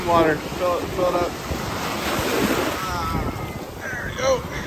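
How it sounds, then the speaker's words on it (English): Foamy ocean waves wash onto a beach, a broad rushing swell of surf that rises and fades under wind noise, with people talking close by at the start and end. "Whoa, the foamy waves."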